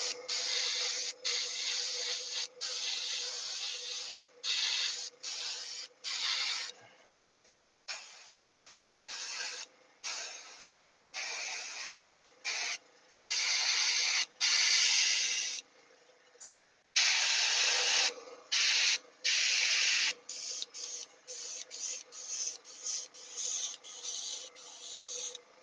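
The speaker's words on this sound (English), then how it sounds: "this airbrush is clogging a little bit" An airbrush sprays pale blue paint in short on-off bursts of steady hiss, some long and some brief, with occasional sputtering as the brush clogs slightly, close and fairly loud, no talking.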